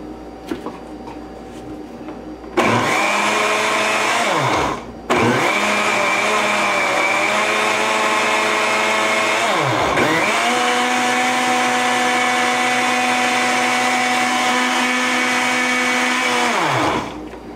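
Electric hand mixer whipping milk and wet ingredients for cornbread batter, a loud steady whine that starts after a quiet moment, cuts out briefly, then runs on with speed dips before stopping.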